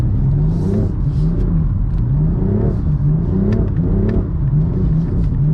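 A BMW M4 drifting in Korea lets out a loud, continuous engine roar that rises and falls in repeated revving surges, heard close from inside the car over a low rumble.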